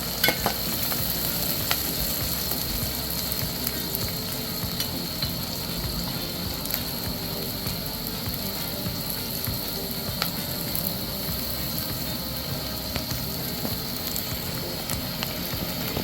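Onion roasts in a pan for a spicy kanda papad chutney, giving a steady sizzle with scattered clicks and scraping as it is stirred, continuous and close with no talking.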